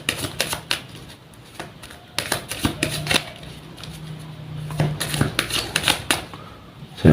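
Tarot cards being shuffled by hand, a run of crisp irregular riffling taps and flicks close by, alternating with quieter pauses, no voice over the shuffling.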